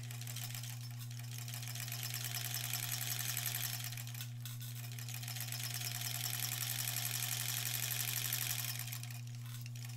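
An embroidery sewing machine stitches across a tote bag with a rapid, even needle chatter over a steady motor hum, close and continuous with a brief pause midway.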